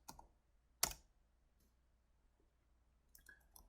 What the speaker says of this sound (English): I'm going to type in const for constant